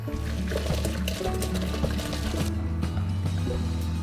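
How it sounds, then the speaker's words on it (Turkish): Pasta for a creamy mushroom and spinach dish is drained through a strainer, giving a steady pour of water that runs for the whole stretch over a busy kitchen background. "Şimdi ben makarnayı süzüyorum ve sosla makarnayı birleştirmeye başlayacağım."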